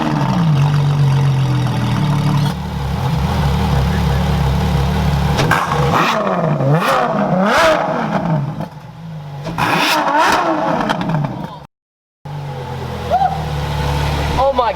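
A supercar engine, one of a Bugatti or a LaFerrari, fires up and revs hard in a driveway, with loud rising and falling revs and a brief cut to silence before it roars again, with people talking over parts of it.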